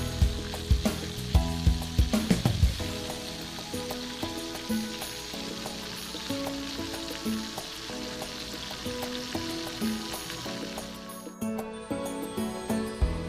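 Frog legs frying in a pan, a continuous close crackling sizzle with scattered pops, plus a few rhythmic knocks early on and a brief drop in level near the end.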